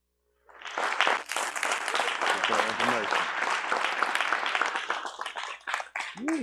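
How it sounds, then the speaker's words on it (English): A congregation at a livestreamed worship service claps loudly and steadily for about six seconds, with voices calling out over the dense applause. "Give another hand clap."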